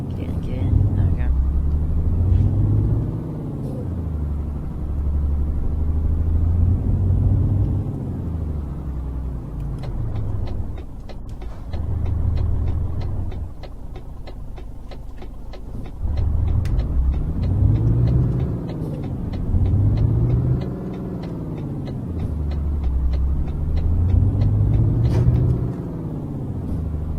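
A truck engine in Euro Truck Simulator 2 drones and rumbles as the truck drives. The pitch rises and falls in repeated sweeps as it revs up through the gears, with a dip in the middle. A voice talks over it throughout.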